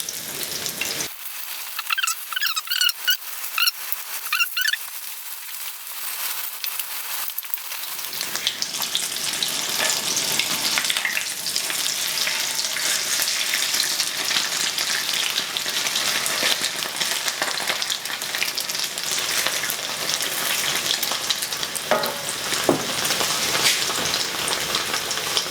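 An egg-battered chile relleno fries in a pan. Quiet crackles give way after several seconds to a loud, steady sizzle that hisses continuously to the end.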